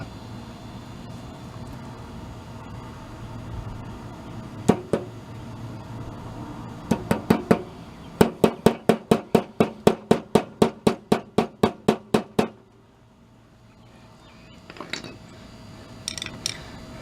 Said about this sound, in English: I'm gonna get my little hammer out. I'm gonna tap that